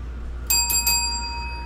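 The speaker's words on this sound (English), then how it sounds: "Give myself the bell right there." A small bell rings three quick times in succession during a baseball card box break, bright and close, leaving a sustained metallic ring that fades over a low steady hum.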